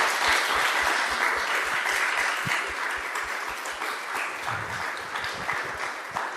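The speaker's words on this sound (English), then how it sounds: "if everyone could give them a round of applause" Sustained applause rolls through a crowd at a union organizing event, a dense, even wash of many hands clapping at close range with a few louder individual claps and faint voices underneath.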